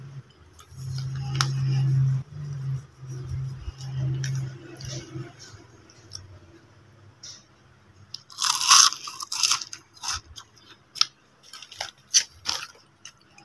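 Crunchy kangkong chips topped with cheese being bitten and chewed close up, a run of loud, sharp crisp crunches in bursts, with a steady low hum early on.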